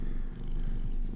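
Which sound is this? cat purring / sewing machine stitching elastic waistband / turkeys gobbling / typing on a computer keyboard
cat purring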